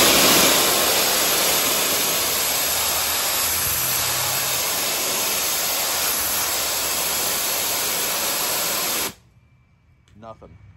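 A 3,500 PSI, 8 gallon-per-minute pressure washer blasting leaf tannin stains on outdoor concrete, a loud, steady hissing roar for about nine seconds that cuts off abruptly, leaving a quiet tail with a faint voice.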